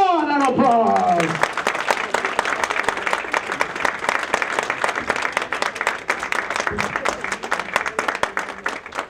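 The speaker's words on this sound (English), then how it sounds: "Let's give a round of applause." Sustained applause from an audience at a mayor's Dominican Republic Independence celebration, dense steady clapping that fills the whole stretch, loud and close, with a voice briefly audible at the start.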